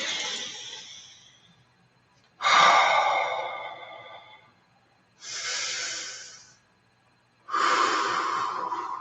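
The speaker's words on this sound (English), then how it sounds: "So take a couple of nice deep breaths." Slow, deep breaths during a meditation, heard close and alone: long airy inhales and exhales, about four in sequence, separated by short pauses.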